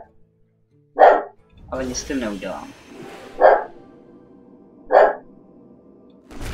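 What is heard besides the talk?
dog barking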